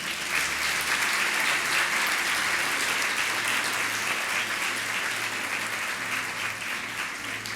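Audience applause in a church gathering, steady and evenly sustained clapping from a room full of people throughout, with no talk over it.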